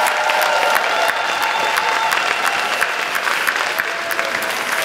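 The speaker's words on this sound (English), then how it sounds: "one big last round of applause to all the nominees" A room full of people at a staff recognition and long service awards event gives sustained, even applause for the nominees and winners, dense clapping throughout with a faint cheer or two.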